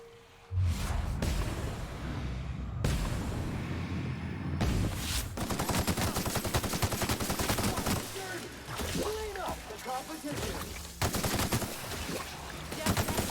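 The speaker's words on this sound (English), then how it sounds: "I'm just gonna shoot everything in my way." Gunfire in the video game The Outer Worlds, loud repeated bursts of rapid shots and fusillades over a dense game soundscape, with a voice speaking briefly among the shooting.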